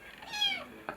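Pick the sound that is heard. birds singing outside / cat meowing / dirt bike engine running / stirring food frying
cat meowing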